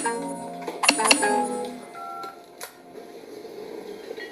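A telephone handset is picked up and dialed: a clatter of handling followed by several short keypad tones close by, then quieter fumbling.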